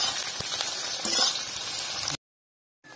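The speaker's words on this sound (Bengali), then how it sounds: "পেঁয়াজটাকে ভেজে নেব।" Chopped onions fry in hot oil with bay leaves, cardamom, cloves and cinnamon for chicken biryani, giving a close, steady crackling sizzle with a few clinks before cutting to silence.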